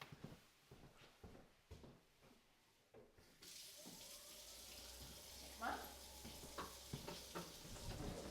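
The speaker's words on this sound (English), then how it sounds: "It's hot water coming out of there." Hot water runs from a tap powered by a portable backup power unit. After a few seconds it becomes a steady hiss and splash nearby, with people talking over it.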